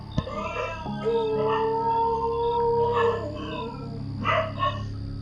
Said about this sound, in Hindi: बाहर कुत्तों के रोने की आवाज तेज हो गई थी